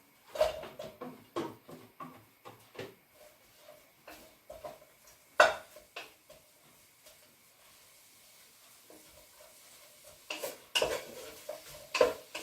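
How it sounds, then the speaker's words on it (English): Onions cook gently in oil in a pot for a chicken and chickpea tagine, a soft, quiet sizzle under repeated clinks and scrapes of a utensil against the pot, busier at the start and again near the end, with no voices. "So we just cook our onions very gently for a couple of minutes."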